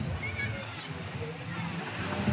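Sea waves at high tide on the beach at Digha, a steady broad wash of surf with splashing, close and fairly loud, while voices talk over it.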